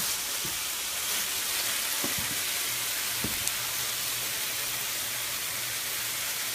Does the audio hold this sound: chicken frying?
yes